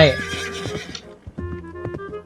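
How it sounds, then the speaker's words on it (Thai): A horse in the Roblox obby game Escape The Castle Fortress gives a loud whinny at the start, followed by hoof clip-clops and game sounds, with a second softer neigh and clip-clop passage after a short pause. "ม้าสายพันธุ์อะไรนี้แม้ กระโดดข้ามภูเขา"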